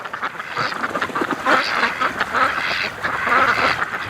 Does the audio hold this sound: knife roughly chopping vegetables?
no